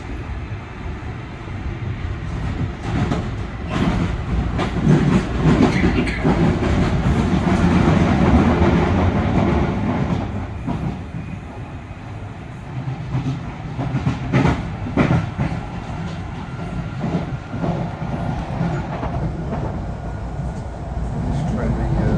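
London Underground Jubilee line train running near Wembley and Kingsbury, a loud continuous rumble and rattle of wheels on rails swelling and easing, with voices and an announcement heard over it.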